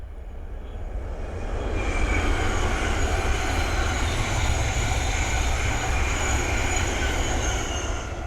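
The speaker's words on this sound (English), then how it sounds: "the next train to pass by is a Thameslink 700 from Brighton to Bedford" A Thameslink Class 700 train running from Brighton to Bedford passes on the Midland Main Line at Ayres End Lane, a loud, steady rumble and rush that swells after the first couple of seconds and holds close throughout, with no voices.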